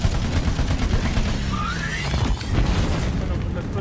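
A booming explosion in the video game Battleborn, a rough rumbling blast sitting inside a busy wash of game effects, loud throughout with a brief dip near the middle before the roar swells again.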